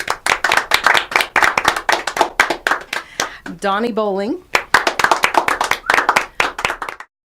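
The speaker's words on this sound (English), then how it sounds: "everybody can get a round of applause here" Studio audience claps and applauds guest performers on a singing television show, steady hand-clapping throughout, with a man announcing names over it and a brief sung vocal phrase in the middle.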